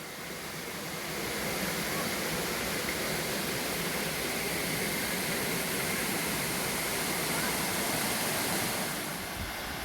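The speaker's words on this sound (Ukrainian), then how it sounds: "Знайшов місце, звідки починає водопад витікати." A steady, broad rush of water falling from Dzhurynskyi waterfall in Ternopil region, Ukraine, loud and continuous throughout with no breaks and no voices.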